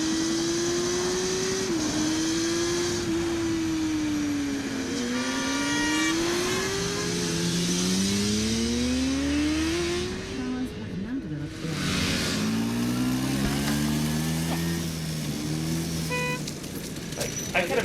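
A motorcycle engine from an Australian road safety public service announcement drones steadily, its pitch rising and falling through gear shifts and revs, then passes close with a brief dip before carrying on, with faint talking underneath.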